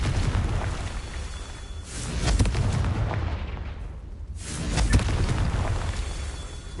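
Confringo blasting curses exploding in a Harry Potter video game, heard as two loud, close, rumbling booming bursts that swell and fade in quick succession with a noisy tail between them.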